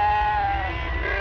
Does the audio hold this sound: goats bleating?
yes